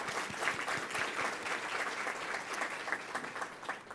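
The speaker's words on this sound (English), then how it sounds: "So I think we should give a round of applause to all of our early childhood educators." Sustained applause fills a forum on Ohio's childcare crisis, honoring early childhood educators; steady, dense clapping from a moderately distant crowd throughout, with no voices.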